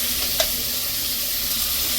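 Ghee melts and sizzles in a cooking pan, giving a steady, close frying hiss with a soft stir or clink near the start, and no voices.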